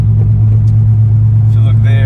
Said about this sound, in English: so instantly after getting on the road, car starts misfiring